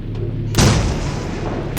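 In a video game, a sudden loud explosion booms after a quiet moment, a heavy broadband blast that rumbles and decays over a second, then a second sharp crack follows at the end.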